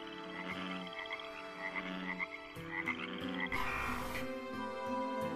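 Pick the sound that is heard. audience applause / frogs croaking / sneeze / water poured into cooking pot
frogs croaking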